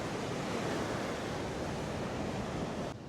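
Ocean waves breaking on a beach, a dense continuous wash of surf heard close and loud, with wind over the microphone.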